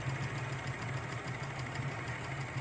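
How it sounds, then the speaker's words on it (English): An OKMO R01 Rider Ericsson hot-air engine runs on a gas burner, a steady, close mechanical chugging with a low rhythmic pulse and a constant burner hiss underneath, no voices. "It's a Stirling engine, but it's also got its own pump."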